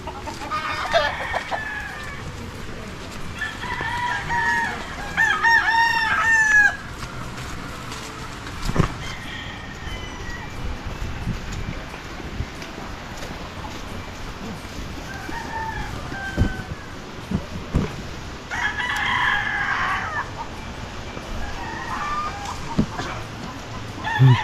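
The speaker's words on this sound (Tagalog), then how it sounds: "Daming manok oh." Chickens cluck and roosters crow in a rural provincial yard, several crowing calls rising at intervals among scattered clucks, moderately near over a busy outdoor background.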